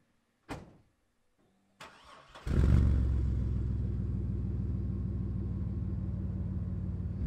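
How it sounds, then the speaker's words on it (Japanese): A 2002 Chevrolet Astro van's 4.3-litre V6 starts with a couple of brief cranks, then settles into a deep, steady, throaty rumble close by through a Cherry Bomb muffler. "出口部分はノーマルなんですが、チェリーボムを装着してるそうです。 で、ちょっと音を聞いてみます。"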